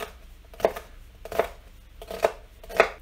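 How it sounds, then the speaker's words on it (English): A knife slices peppers into long, French-fry-like sticks for venison chili. Four crisp, evenly spaced cuts land on a board at close range, with quiet gaps between them. "You're just cutting like French fry sticks."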